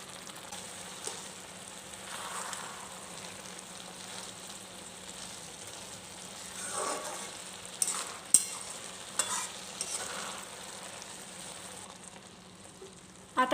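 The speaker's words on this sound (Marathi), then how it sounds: "साखरेला सुटलेलं पाणी आटेपर्यंत आता आपण हलवत राहूयात" Carrot halwa is stirred in a pan as the sugar syrup cooks down, a steady soft sizzle and bubbling with occasional scrapes and clicks of the spoon against the pan.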